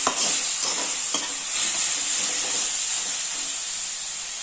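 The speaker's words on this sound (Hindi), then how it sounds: "3 से 4 मिनट तक इसे ऐसे भूनते रहे," Mustard greens bhaji stirred and fried in a pan for a Chhattisgarhi-style sarson sabzi, giving a steady close sizzle and hiss throughout with light scraping stir strokes and no talk.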